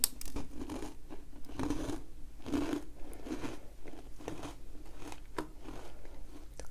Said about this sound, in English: It's got a good crunch.